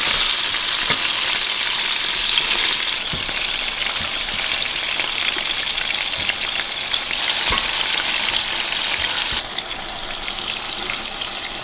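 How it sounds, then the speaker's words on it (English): Continuous loud sizzling of mushrooms frying in a hot pan, with occasional stirring scrapes and clinks, close by. "We're gonna get the mushrooms in there, get those sizzling."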